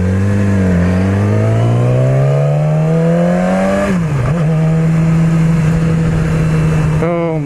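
A 2016 Yamaha R6 motorcycle on a first ride, its engine loud and close as it revs, rising steadily in pitch, dipping briefly around a gear change, then holding a high, smooth whine before revving again.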